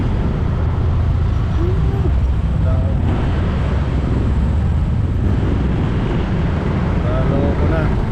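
Loud, continuous traffic rumble along a busy road, engines droning steadily with a few faint horn-like tones and wind buffeting the microphone, heard from amid the flow.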